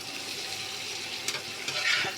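Fish and long beans fry with spices in a pan, a brisk sizzle broken by short scraping stirs and a few sharper spatters, close and clear.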